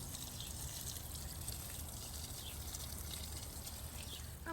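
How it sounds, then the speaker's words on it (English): Water flowing freely from an expandable garden hose outdoors, a faint, steady hiss and gush without pauses. "the water is free flowing from here."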